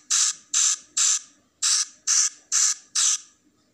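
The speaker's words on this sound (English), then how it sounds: "Clean tattoo with liquid spray." Seven short, bright liquid-spray bursts from a tattoo-removal video game, spaced in an even rhythm with a brief pause after the third, each a crisp, close hiss.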